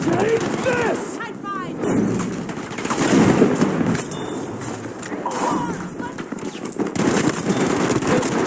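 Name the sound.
gunfire in the video game Battlefield V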